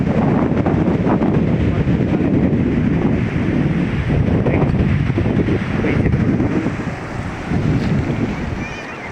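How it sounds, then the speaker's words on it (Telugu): Wind and surf at Surya Lanka beach in Bapatla: strong, steady gusts roar and buffet the microphone, with a continuous wash of breaking waves beneath, loud and unbroken throughout. "బాపట్ల వచ్చినప్పుడు ఈ ఫుల్ లెంత్ బీచ్ మాత్రం మిస్ కావు"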